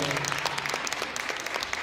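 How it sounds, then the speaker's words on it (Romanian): An audience at a Christmas show claps steadily, a soft, fairly distant patter of many hands over a couple of seconds. "Haideți, aplauze, că merită"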